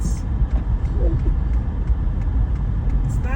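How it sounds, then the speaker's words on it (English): A car creeps along a snow-covered road in heavy snowfall in the Hudson Valley at about 15 to 25 miles per hour, its steady low engine and tyre rumble continuous and fairly close throughout. "And I'm driving 15 to 25 miles per hour"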